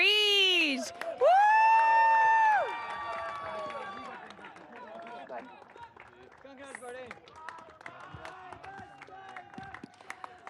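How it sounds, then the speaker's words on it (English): A crowd cheering race winner Simon Reed from Ireland at a DSBK Middle East motorcycle championship podium, whoops and shouts rising over a loud announcer's voice, then settling into scattered clapping and chatter. "Wow, big cheer for Simon."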